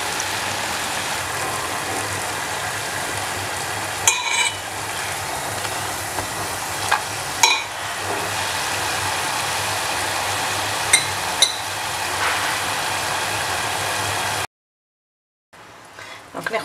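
Bambalouni dough frying in hot oil gives a steady, dense sizzle throughout, broken by a few light clicks of handling, then cuts off into a short silence before resuming faintly.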